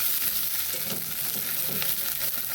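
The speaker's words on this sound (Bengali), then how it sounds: "এবার মশলাটা একটু কষে নিতে হবে ভালো করে।" Spice paste for a soybean curry sautés in a hot pan with a dense, loud, continuous sizzle, and faint stirring scrapes run underneath. No one speaks.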